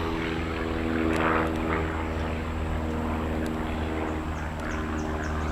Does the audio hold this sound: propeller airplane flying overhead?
yes